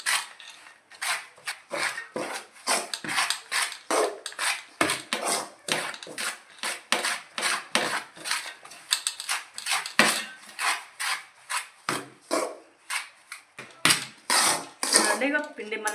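Jowar flour dough is mixed by hand in a bowl, producing a rapid series of rhythmic slapping and scraping strokes with brief pauses, close and clear.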